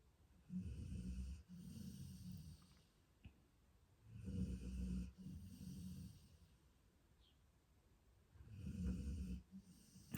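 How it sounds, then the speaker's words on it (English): Three slow, heavy snores rise and fall at regular intervals, with quiet breathing between them; fairly close and steady, no talking. "the snoring's so loud, isn't it, guys?"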